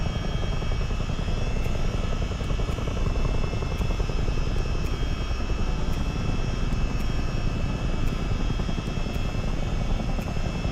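A simulated CH-47 Chinook twin-rotor helicopter in Microsoft Flight Simulator gives a loud, steady engine and rotor drone that holds constant throughout, with faint regular ticks above it.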